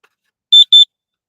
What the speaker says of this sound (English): and it's been beeping all night.